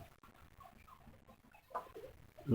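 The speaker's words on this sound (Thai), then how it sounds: "พามาเบิ่งไก่นุ่มไก่ไม้ครับ" An eleven-month-old Burmese fighting rooster clucks faintly outdoors in the evening, giving a few soft scattered clucks with a louder burst at the end.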